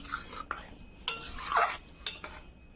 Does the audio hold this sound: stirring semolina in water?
yes